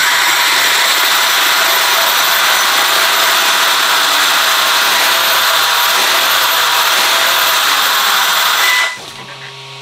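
An Arrma Outcast RC car electric motor spins at stock speed, a loud steady high-pitched whine that holds nearly unchanged before cutting off abruptly near the end.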